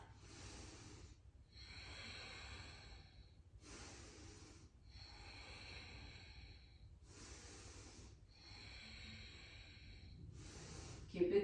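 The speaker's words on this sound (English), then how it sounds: "Inhale and exhale. Inhale and exhale." Slow, deliberate breathing during a yoga exercise for the respiratory muscles, alternating airy inhales and exhales in a steady rhythm of about four breaths, close and quiet.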